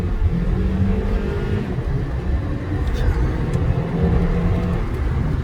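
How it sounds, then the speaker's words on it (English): A 2008 Honda Accord EX accelerates hard with its tires spinning, giving a dense, roaring engine and road noise that surges and holds close to the microphone across the whole stretch, with no talk. "I'm spinning the tires"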